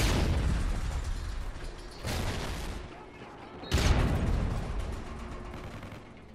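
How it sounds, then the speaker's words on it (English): Stun grenade blasts in a Call of Duty match: sharp bursts with broad noisy decay land around two and nearly four seconds, set against ongoing gunfire and battle noise. "Throwing a stun grenade!"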